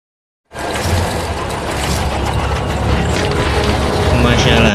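A secret machine switches on after a beat of silence, then runs with a dense, loud mechanical clatter and whir that holds steady to the end.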